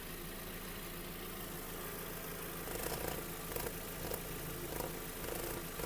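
A 2007 Volkswagen Touran 1.6 MPI engine idles quietly and evenly, a low steady hum with slight irregular ticking, heard up close with no voices.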